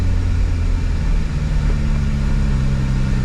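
A Subaru Sambar KS4 kei truck engine runs with the accelerator held steady, giving a loud, even drone with a constant pitch and no revving up or down.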